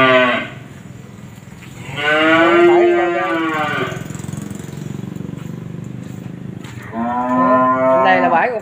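Cattle moo in three loud, drawn-out calls with pauses between them, close by, over a steady low mechanical drone.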